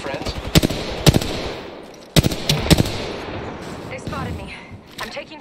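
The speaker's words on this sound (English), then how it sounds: "I am taking fire, friend. They spotted me. I'm taking shots." Bursts of gunfire in the video game Apex Legends, several sharp loud shot clusters with trailing echo in a busy battle mix, while a player talks over them.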